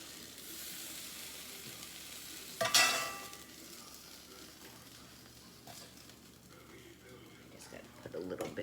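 Beef tips frying in oil in a pan, a steady soft sizzle with a sudden louder hiss burst as a batch hits the pan, then a quieter sizzle and light stirring scrapes, with some talk underneath.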